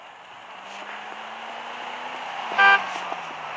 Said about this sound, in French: Tu me klaxonnes. Personne me klaxonne.